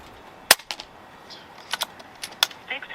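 Daystate Huntsman Revere .22 air rifle fired outdoors in wind: one sharp crack followed by several lighter clicks and metallic ticks, scattered and fairly close.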